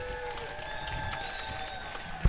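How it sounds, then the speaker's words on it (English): Applause from a crowd at a US Masters Swimming spring nationals meet in an indoor pool, a steady wash of clapping held at a moderate, fairly distant level throughout. "I believe that some amazing people deserve a great big round of applause"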